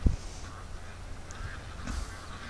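Ducks playing in the water give a few scattered honking quacks, one sharp call at the start and fainter ones later, set against a low outdoor background.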